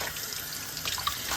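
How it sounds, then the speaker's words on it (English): Hot soapy water runs steadily from a tap while a Stanley Tucci frypan is washed in a sink, a continuous close splashing hiss with small drips and clinks near the end. "You just have to wash them in some hot soapy water."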